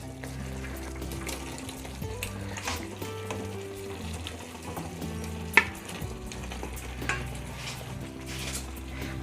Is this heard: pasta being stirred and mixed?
yes